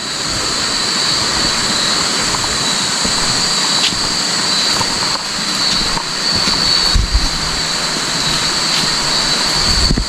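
A motorcycle engine drones steadily at night in a mountain forest, humming continuously at a constant level, with a high whine riding over the roar and no voices.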